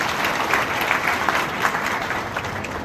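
Audience applause at a Marathi speech event, a dense, steady burst of many hands clapping close and loud throughout, with a faint murmur of voices underneath.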